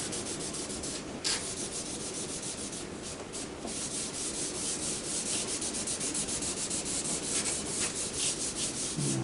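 Charcoal being smoothed and blended across paper during a still-life drawing, a steady close rubbing and scraping that continues without pause, with no voices.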